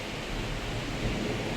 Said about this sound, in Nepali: आज पानी परेको छ